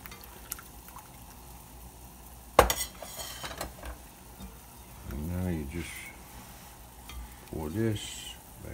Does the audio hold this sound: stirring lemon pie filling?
yes